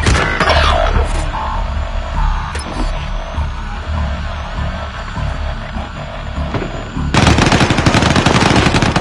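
Machine gun fire in a video game, loud continuous rapid bursts throughout, with a brief lull before a dense, harsher volley erupts near the end.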